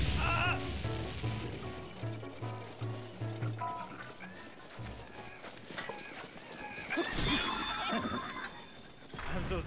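Horse neighing and whinnying in Zelda: Breath of the Wild, mixed with hoofbeats, game music and impact sounds, fairly busy and mid-level.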